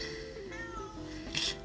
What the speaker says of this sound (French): Ça, c'est le chat qui participe à la vidéo.